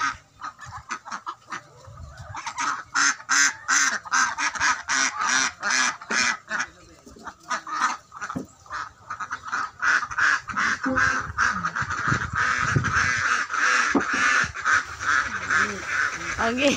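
A flock of ducks on a provincial farm quacks noisily and continuously at close range, the calls rapid and overlapping in dense bursts that grow busier toward the end.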